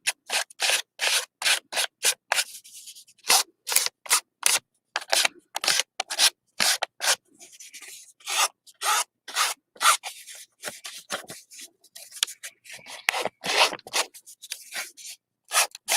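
Paper edges being distressed by scraping an ink pen along them, a dry rapid rubbing and scratching in quick bursts of strokes with short pauses between, close and fairly loud with no talking.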